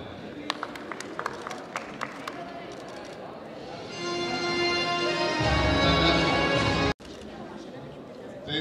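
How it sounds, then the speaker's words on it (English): Applause for Mary, a player honoured at an international para badminton tournament, as scattered claps grow into a fuller crowd ovation that cuts off abruptly, with a voice talking early on. "Please clap for Mary"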